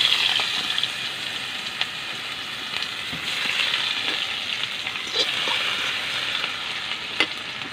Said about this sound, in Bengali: আদা কুচিটা রসুন কুচিটা একটু লাল লাল করে যতক্ষণ ভাজা হচ্ছে